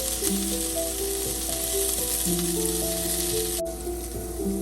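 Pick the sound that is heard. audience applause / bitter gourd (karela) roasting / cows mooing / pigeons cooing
bitter gourd (karela) roasting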